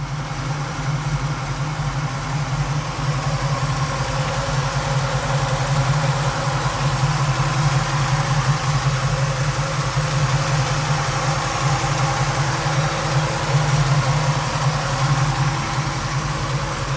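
A 1967 Ford Mustang coupe engine idles steadily up close, a continuous low rumble with an even pulse and no voices throughout.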